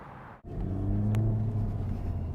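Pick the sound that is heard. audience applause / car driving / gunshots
car driving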